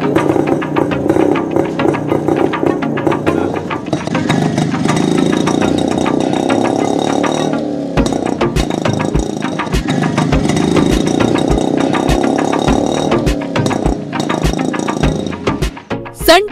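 An old motorcycle, one of a collection of more than 25 vintage bikes kept in running order in Udupi, idling close by. The loud, steady engine throb turns into sharper, regular pulsing beats partway through, with no talk.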